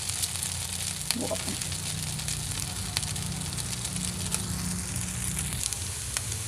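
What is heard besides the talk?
egg-dipped bread frying in a pan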